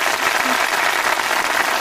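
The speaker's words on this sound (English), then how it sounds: "300 people out there applauding." Applause from an audience of about 300 people, a steady dense patter of clapping that fills the whole short moment at moderate loudness.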